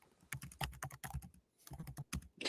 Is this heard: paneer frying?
no